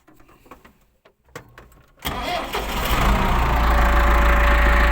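A loud Case 695 tractor engine starts up after a couple of seconds of quiet clatter, then settles into a steady, heavy rumble that runs close by to the end.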